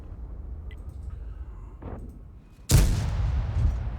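A single loud tank cannon shot in World of Tanks bursts out abruptly after quiet game ambience, followed by a sustained rumbling echo and faint battlefield noise.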